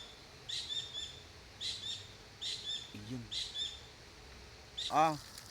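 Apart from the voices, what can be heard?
bird calling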